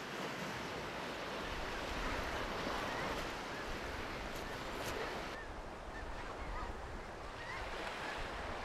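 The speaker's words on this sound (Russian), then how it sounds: "Мощные волны плещутся под напором ветра." Strong wind drives waves that splash and surge continuously against the shore of Lake Buir Nuur in eastern Mongolia, a dense, loud roar of water and gusts with no pauses.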